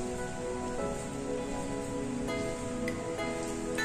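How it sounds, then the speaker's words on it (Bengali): Heavy rain falls outside a heritage roadside dhaba in Chandannagar, making a continuous, even wash of drops with a faint tonal hum underneath and no voices. "বাইরে প্রচন্ড বৃষ্টি হচ্ছে"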